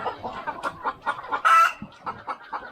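Hens and a rooster clucking close by at a new coop, a quick run of loud, rhythmic clucks with one longer, higher call partway through.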